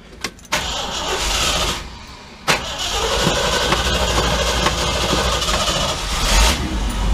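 A Ford Focus engine cranks briefly, catches on a second try, and settles into a loud, steady idle close by, with a short click and gap between the attempts.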